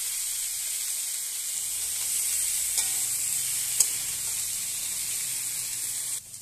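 Potatoes and cauliflower fry together in a pan with turmeric powder, giving a steady, close hiss that thickens slightly partway through, with a couple of faint clinks and no voices.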